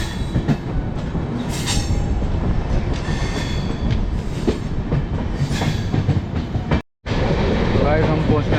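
Train 04652 from Amritsar to Delhi runs on the rails heading toward Ambala, heard from inside as a loud continuous rumble with clickety-clack and occasional wheel squeal, and a brief dropout near the end.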